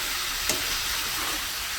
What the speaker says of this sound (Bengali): আর এখন ভেজে রাখা সেই যত সবজি ছিল সব সবজিগুলো দিয়ে আমি ভালো করে কষিয়ে নেবো একবারে।